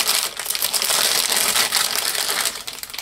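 Plastic packaging crinkles and crackles steadily up close as a tiny Fiat 500 model car body is unwrapped, a dense crumpling noise that lasts the whole time with no talk.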